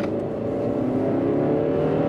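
A 2012 Chrysler 200 four-cylinder engine droning and building as it accelerates, a steady loud roar close by.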